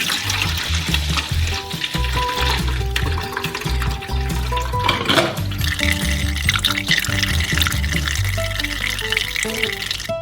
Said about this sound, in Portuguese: Quando a jarra ficou cheia, nós despejamos o suco no balde.